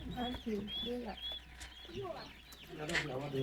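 Young guinea fowl and Goliath chickens about six weeks to two months old cluck and peep steadily in a poultry pen, a busy overlapping chorus of short calls close by.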